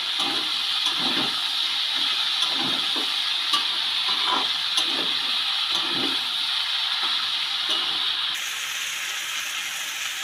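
Water pours into a hot pan of cauliflower, peas and potatoes frying in spices, producing a loud, steady rushing hiss with bubbling and stirring, then a slightly quieter simmer at the end, with no voices.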